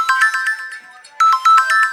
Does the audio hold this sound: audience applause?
no